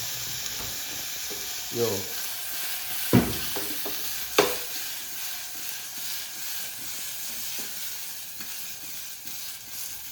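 Dhokla fries in a pan with a steady, close sizzle and hiss, broken by a few sharp utensil knocks and a brief voice speaking.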